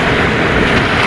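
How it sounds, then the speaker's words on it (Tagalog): Strong ocean waves at a beach in La Union, a loud, steady roar of surf mixed with wind noise on the microphone, filling the whole moment with no talk. "Ang lakas pala ng alon dito."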